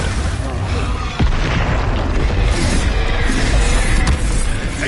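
A Confringo blasting spell bursts in Hogwarts Legacy, a loud sharp boom around the one-second mark followed by crackling blasts and combat noise, with a player talking throughout.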